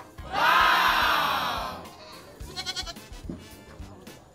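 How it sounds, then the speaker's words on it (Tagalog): At a hillside livestock stockyard where pigs and goats are traded, a loud drawn-out goat bleat rings out close by, followed by fainter rustling and scattered animal and crowd noise. "Mga baboy po pala dito, mga kagandang buhay. Baboy tsaka kambing, dito banda."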